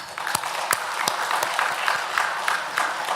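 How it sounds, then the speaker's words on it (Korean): A church congregation applauds steadily, with a few sharper claps standing out over the continuous patter, fairly close and loud. "박수 보냅시다."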